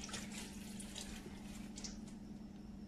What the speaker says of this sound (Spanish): Voy a ponerme tantita agua.